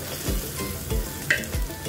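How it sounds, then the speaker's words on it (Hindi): Onions fry in a pan, a soft steady sizzle under repeated scraping strokes of a spoon stirring them, close and moderately quiet. "तो बस ये प्याज इसमें डालें, प्याज के बाद थोड़ा इसको ब्राउन कर लें"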